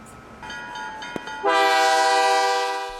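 Freight train passing in Muscatine, a low rumble joined by a loud, sustained horn blast that swells and holds, close to the listener.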